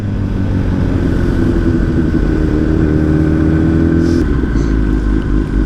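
Motorcycles riding along a mountain road, a steady loud engine drone with a rising rev as bikes pass close by, continuous throughout.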